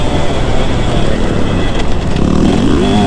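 A two-stroke motorcycle engine lugs at low revs under load, a loud continuous rough drone with a slight rise in pitch near the end.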